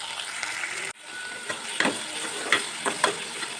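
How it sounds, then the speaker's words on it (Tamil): Tomatoes and onions sautéing in a pan for a brinjal pachadi, a soft steady sizzle with a brief break and a few scraping stirs near the end, no talking. "தக்காளி நல்லா வதங்கணும்."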